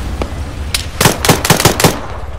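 Rapid bursts of automatic gunfire in a video game: a lone shot, then a dense string of loud close rattling volleys in quick succession.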